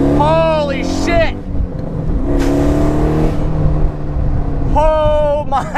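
700hp LS-swapped Pontiac Solstice accelerating hard, loud rising engine sweeps through quick gear changes, with excited voices talking over it.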